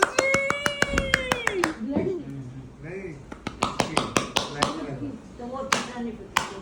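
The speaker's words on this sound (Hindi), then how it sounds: "ताली करो ताली" Hands clap in a quick, sharp, evenly spaced series of close claps, pausing briefly and then resuming, while a voice and adult speech carry on between and over them at home.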